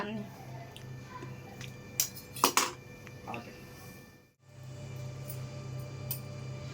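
A knife cuts agar agar halwa and pieces go onto a plate in a home kitchen, with a few light clinks and taps against the dish while someone talks quietly throughout.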